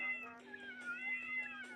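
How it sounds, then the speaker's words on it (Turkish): Cartoonish cat meows from the eat-everything video game Tasty Planet, several overlapping mews over a steady electronic tone, fairly quiet with no talking. "bakar mısınız kedilere ne kadar kedi var"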